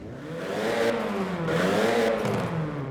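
A 2018 Nissan Sentra Nismo engine revs steadily in the game Forza Horizon 4, its pitch rising and falling in smooth sweeps, loud and close with no voices.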